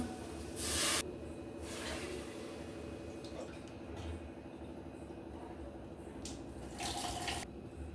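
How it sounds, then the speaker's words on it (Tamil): Water pouring steadily into a cooking pot with tomatoes in it, a continuous splashing rush with a couple of brief louder gushes near the start and end. "தண்ணி ஊற்றிக்கலாம்."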